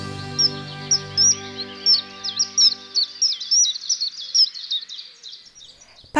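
A common kingfisher in Paris gives a series of short, high, piercing whistled calls in quick succession. The calls are bright and fairly close and sound over a fading low musical background before it drops to near silence.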